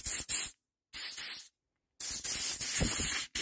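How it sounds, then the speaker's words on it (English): Compressed air blasts cleaning the fuel pump cover of a Briggs carburettor from a Westwood Lawn Bug: three loud, close bursts of hissing air separated by brief silences, the last one lasting longest. "Give it a little blow without blowing your screws everywhere. This little cover, what go over the fuel pump."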